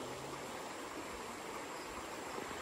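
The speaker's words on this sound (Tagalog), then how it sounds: "Malinis pa siya ilog niya." River water flowing steadily near a farm, a continuous broadband rush with no pauses and no voices.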